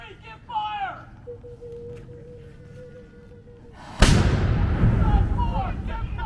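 A replica cannon fires at a living history festival at Charles Towne Landing: a single sudden, very loud boom with a long rumbling tail, after a stretch of talk from a crowd and a commander.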